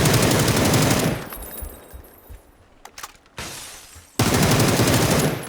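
M4 rifle fire in PUBG: a long, loud, rapid automatic burst, then a quieter pause with a few faint clicks and shots, then another sustained full-auto burst close up.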